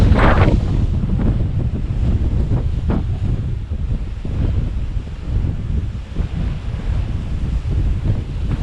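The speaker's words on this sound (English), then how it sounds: "Perhaps you don't hear me really good because of the wind." Heavy wind buffets the microphone with a constant roaring rumble, and sea waves faintly wash in the background on the coast of Malta in winter.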